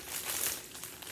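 Plastic packaging rustles and crinkles as hands rummage inside a bag of goods, a soft, continuous crumpling close by and fairly quiet, with no talk.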